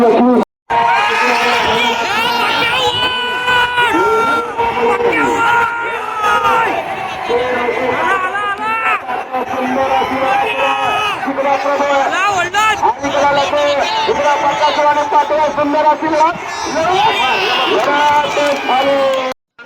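A huge, loud crowd at the Pusegaon Hind Kesari bullock cart race roars continuously, with shouting, cheering and dense babble of many voices throughout.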